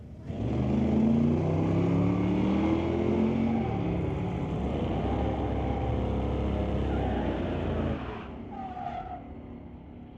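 A 1990 Ford and a 1978 Monte Carlo drag racing at a street-legal event, loud engines roaring and tires squealing side by side for about eight seconds before the noise drops away into a fainter fading rumble.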